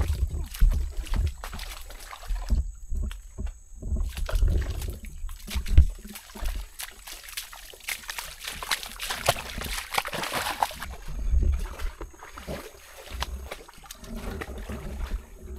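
Small wooden outrigger boat moving along shallow water, with intermittent sloshing, splashes and knocking against the hull, uneven and close, amid low rumbling background.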